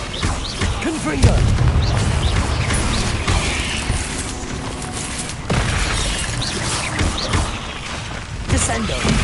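Confringo fire-blast spells from the Hogwarts Legacy video game burst with booming, crashing impacts over a dense mix of battle effects and mechanical clatter, and a voice speaks over the action.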